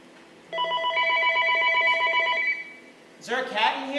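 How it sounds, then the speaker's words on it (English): A telephone bell rings as a stage sound effect in a theatre play, a steady double-toned ring lasting about two seconds under room quiet, followed by a person speaking. "That was the phone, Ken."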